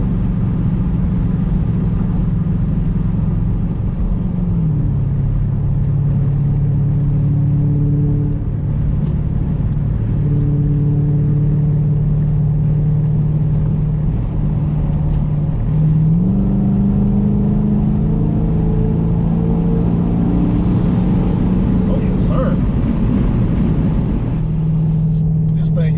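A vehicle with a 6.4 engine and an aFe intake accelerates, its engine drone rising and shifting through steady loud pulls for the whole stretch, heard from inside the cab.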